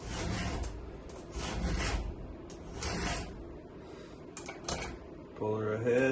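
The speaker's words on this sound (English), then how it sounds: "Try to file until you get a straight edge at the top of the tooth" A file rasping across a DeWalt chainsaw chain tooth in a few slow, gritty strokes close by, mixed with talk.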